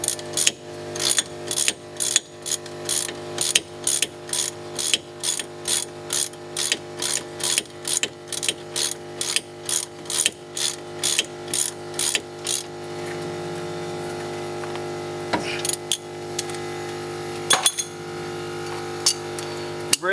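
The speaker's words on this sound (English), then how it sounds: "I'm going to go back in with a breaker bar" A wrench tightening a bolt during front ABS sensor work on a Jeep Grand Cherokee gives a long run of rapid, evenly spaced ratcheting clicks close by, then stops, leaving a few scattered metallic clinks over a steady background hum.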